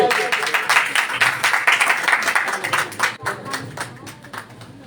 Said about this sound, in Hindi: जोरदार तालियों में पास्टर साजिद